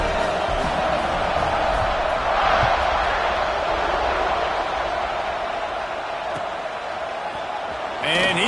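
A college football stadium crowd roars in a steady, broad rumble as Miami and Georgia line up for the kickoff, while a commentator talks over the noise.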